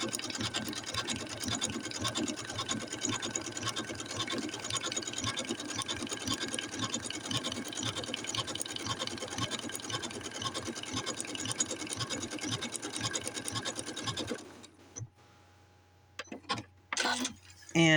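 A Janome Skyline S7 sewing machine stitches appliqué in a steady, fast, close-up whir for about fourteen seconds, then stops, followed by a few brief clicks and handling noises.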